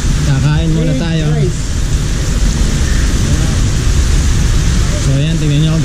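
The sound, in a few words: heavy rain on Mount Arayat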